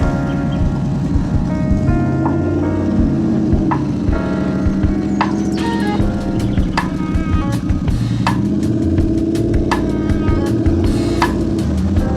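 A loud, rumbling Triumph Bobber cruiser motorcycle engine runs steadily nearby, with a deep throbbing idle and occasional revs and ticking mechanical noise.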